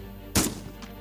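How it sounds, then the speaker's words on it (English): A single gunshot somewhere in a city neighborhood, a sharp sudden crack with a brief tail and a faint echo just after, heard at a moderate distance against a steady low background hum. "Did you just hear the gunshot?"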